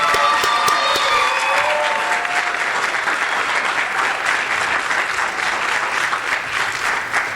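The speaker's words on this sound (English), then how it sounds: "So if you could give her a round of applause, that'd be great." School audience applauding a teacher at a Hispanic Heritage Month celebration, a steady wash of many hands clapping at close range that fills the whole stretch, with faint cheering mixed in.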